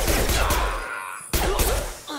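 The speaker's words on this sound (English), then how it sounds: "Oh, we're shooting people now?" Gunfire in the video game Mass Effect 2: a close, loud volley of rapid shots in two bursts separated by a short gap, with sharp cracks and heavy low thuds.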